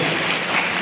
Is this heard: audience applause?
yes